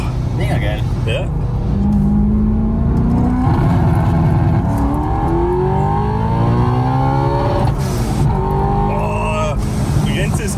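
A BMW E90 M3 V8 revs hard, its loud engine note climbing and falling in repeated sweeps up toward the rev limiter, heard from inside the car.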